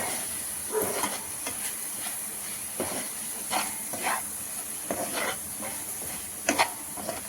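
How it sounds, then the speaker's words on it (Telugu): Honey being stirred into rose petal gulkand flavoured with cardamom powder and fennel, giving soft scraping stir strokes at an irregular rhythm over a steady hiss. "హనీ వేసేసుకొని మంచిగా మిక్స్ చేసేసుకోవాలండి"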